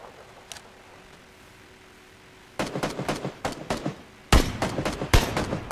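Gunfire in the video game PUBG, a quiet opening broken by a volley of sharp, close shots, then a second, louder group of cracks near the end.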